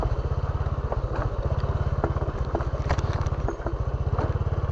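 A motorcycle engine runs close by with a loud, steady rapid chug, its low pulsing throb constant throughout with faint clatter on top.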